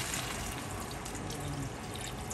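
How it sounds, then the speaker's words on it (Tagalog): Water pours steadily into a cooking pan, a continuous close splashing rush that holds at an even level the whole time. "Buhusan na natin siya ng tubig."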